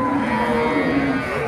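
A Friesian cow lows in one sustained, loud moo close by at a busy cattle market, the call filling the whole moment with no talk over it.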